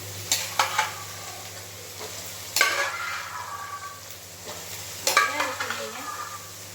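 Peas for a street-style sundal stirred in a sizzling pan, with three distinct scraping strokes of the spoon over a steady low frying hiss.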